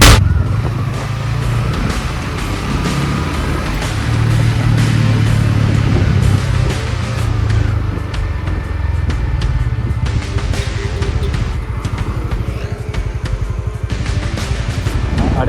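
A car's engine rumbles loudly and continuously on a road, heard close up, with steady low drone and rough road noise throughout and no clear pass-by fade.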